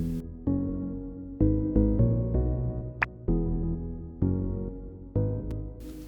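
Castle synth bass preset run through a filter, playing a series of loud, sustained bass notes with sharp attacks and rhythmic re-triggers, alone with no talk.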